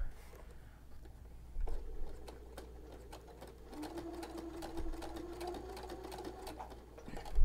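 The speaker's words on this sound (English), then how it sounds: "we are ready to actually sew." Sewing machine fitted with a tape stitching foot running steady stitches, a continuous mechanical whir with rapid ticking, moderately loud and close, alone without talk.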